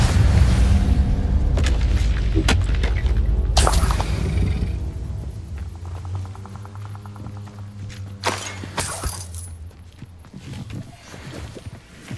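Incendio and Confringo spells cast in combat in the video game Hogwarts Legacy: heavy booming blasts and whooshing fiery bursts over a low rumble, followed by bright crackling impacts and a fading tonal hum.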